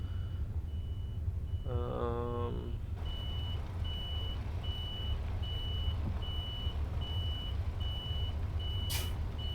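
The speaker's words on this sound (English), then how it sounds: "I don't know if that reverse beeper is the actual truck's reverse beeper" A DAF XG truck's reverse beeper in Euro Truck Simulator 2 pulses in a short series over a low rumbling engine idle, followed by a steady hum and a brief hiss.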